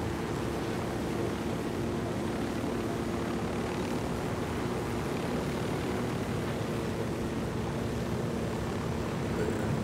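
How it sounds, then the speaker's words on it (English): A helicopter flying over mountains in the video game Ghost Recon Wildlands, a constant dense engine and rotor drone holding steady throughout without talk. "This helicopter only goes so high."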